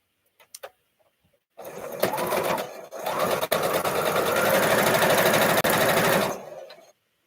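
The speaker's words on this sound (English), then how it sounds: "line them up, and go sew them." A sewing machine stitches a seam on a Spools & Stars quilt block: after a few faint clicks, a steady close whirring hum runs for about five seconds with a brief stutter partway through, then winds down.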